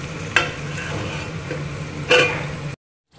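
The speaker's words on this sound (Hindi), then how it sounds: "इसीलिए मैं ढक के हाई फ्लेम पे ही इसे 2 मिनट तक फ्राई कर लेंगे।" Whole green chillies frying in a covered pan over a high flame make a steady muffled sizzle, broken by two sharp pops or spits before the sound cuts off.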